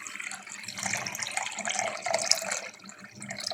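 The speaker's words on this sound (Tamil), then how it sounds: "ஒரு முந்நூறு எம்எல் தண்ணி சேர்த்துக்கலாம்" Water poured into a bowl of roasted rava (semolina) for rava dosa batter, a steady splashing pour with a brief louder gush midway, close and alone.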